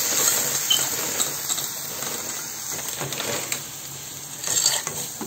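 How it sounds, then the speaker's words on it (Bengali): Masala for a tuna pasta gravy sizzles steadily in a pan after the onion and garlic are fried, a continuous close hiss with faint clinks of stirring and no talking. "আমি মশলাটা কষিয়ে নিচ্ছি পাস্তার জন্য"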